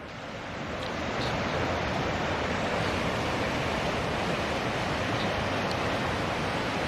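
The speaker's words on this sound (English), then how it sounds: "So there's the fucking little rapids falls" Small river rapids spill over a little falls in a steady, dense rushing wash that grows slightly louder at the start, then holds constant and close.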